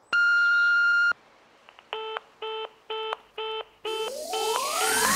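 One long steady beep sounds, then six short evenly spaced tones follow, before a rising noisy whoosh takes over at the end.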